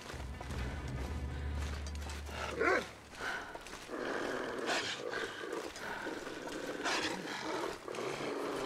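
Wolves growling in the survival video game The Long Dark, low snarling growls and rough roars rising and falling over several seconds among game ambience, fairly close.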